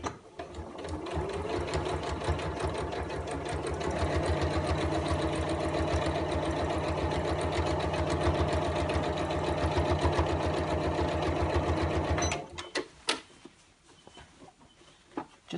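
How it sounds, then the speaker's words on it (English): Sewing machine top stitching around the edge of a fabric dust cover for a ScanNCut cutting machine, a steady loud motor whir running for about twelve seconds, then stopping, followed by a few light clicks. "I'm going to top stitch it"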